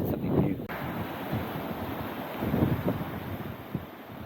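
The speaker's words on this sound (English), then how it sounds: "Nice waves as well." Ocean waves and gusty wind at a wing foil spot in the Canary Islands, a broad rushing wash of surf and wind buffeting the microphone, fairly loud and continuous with swells of intensity.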